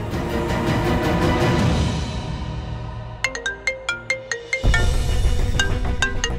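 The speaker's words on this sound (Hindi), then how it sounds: "राम भाई का फोन आ रहा है, अब क्या करेंगे?" A mobile phone rings with a repeated electronic ringtone, sharp regular chime bursts standing out over a thick background of dramatic music, fairly loud and close.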